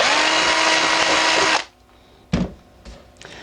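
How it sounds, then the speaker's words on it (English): A power drill whines loudly at high speed drilling holes in end caps, then stops, followed by a few clunks and taps of handling. "So what we need to do is drill our 4 holes"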